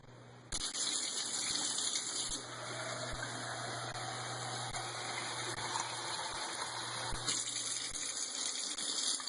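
Water gushes steadily into a cone, a continuous close pouring and filling that starts abruptly and holds at an even, fairly loud level throughout, with faint regular clicks beneath and no talk.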